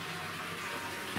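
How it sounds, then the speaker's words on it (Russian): Water runs from a tap into a tank at an apiary, filling it for sugar syrup to feed bees. It makes a steady, faint, even rushing hiss with nothing else over it. "у нас вода уже набежала"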